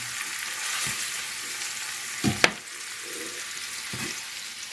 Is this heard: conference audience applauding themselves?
no